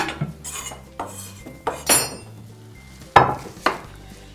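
Plates and dishes clatter in a home kitchen, a handful of separate sharp clinks and knocks of crockery and cutlery, close and fairly loud, with gaps of quiet between them.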